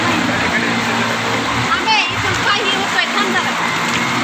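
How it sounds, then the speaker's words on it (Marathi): Floodwater after torrential rain rushes and splashes loudly and steadily, a dense close wash of water that runs the whole time, with voices talking over it. "हे नदीला महापूर आल्यासारखं आलेले आहे"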